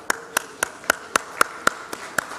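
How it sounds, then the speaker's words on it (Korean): A congregation at a Korean Wednesday evening church prayer service claps together in a slow, steady rhythm, about ten crisp claps spaced evenly in unison. "자, 박수하겠습니다."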